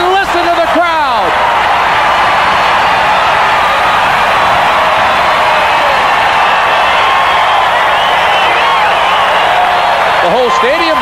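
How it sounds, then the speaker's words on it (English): A packed stadium crowd roars after a Denver Gold touchdown in a 1984 USFL game against the Houston Gamblers, a loud, sustained wall of cheering and whooping that holds steady throughout, with announcer talk at the start and end. "And listen to the crowd."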